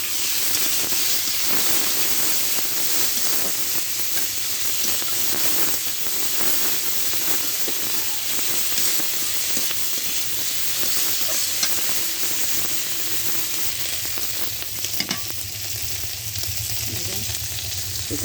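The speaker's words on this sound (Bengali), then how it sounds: "দেওয়ার পরে হলুদ লবণ দিয়ে চিংড়ি মাছগুলো ভেজে নেব" Shrimp fry in oil in a kadai with turmeric and salt, making a loud, close, crackling sizzle with bursts of spattering and occasional stirring scrapes throughout.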